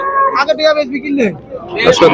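A cow with her five-day-old calf lows close by at a cattle market in short, wavering calls, mixed with people talking around it.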